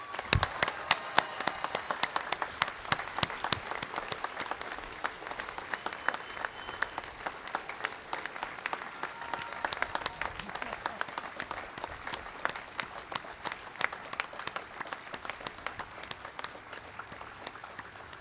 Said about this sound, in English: Now it is time for applause, please.